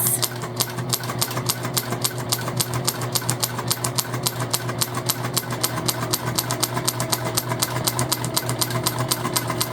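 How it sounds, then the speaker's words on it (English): Quilting stitches on a bag come from a sewing machine running fast and steady, with a dense, even needle rhythm and a low motor hum throughout, close up and uninterrupted, with no voices. "And we're gonna keep stitching in the same direction."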